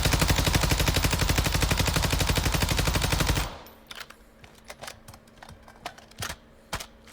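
Rapid automatic weapon fire in Warzone 2.0, a loud sustained burst against a wall lasting several seconds, then stopping, followed by scattered faint clicks and thuds.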